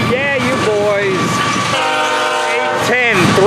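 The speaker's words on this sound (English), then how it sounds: "Look at this train." A Florida East Coast Railway train horn blows loud and close, holding steady chords over the rumble of a passing train, with a voice speaking briefly at the start.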